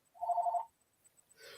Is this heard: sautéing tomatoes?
no